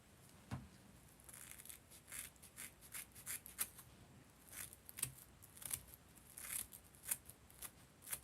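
Scissors snip repeatedly during a hair-cutting job on a model figure, sounding as quiet, close metallic clicks in an irregular rhythm with no talk.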